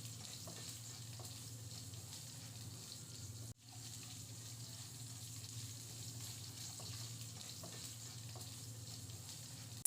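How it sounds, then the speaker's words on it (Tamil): Green chilies and a tomato sautéing in a pan for egg vermicelli biryani give a steady, faint sizzle with light stirring scrapes, one brief dropout partway through, and no talking. "இதோட நம்ம நறுக்கி எடுத்து வச்சிருந்த பச்சை மிளகாயும் ஒரு தக்காளியும் சேர்த்து நல்லா வதக்கி விட்டுறலாம்"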